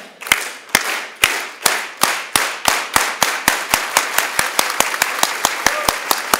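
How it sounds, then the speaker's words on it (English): An audience at a Latino education and advocacy day does a unity clap: loud, crisp single claps in unison, starting slowly and steadily speeding up into a rapid rhythm. "Let's do a unity clap. You guys know the unity clap?"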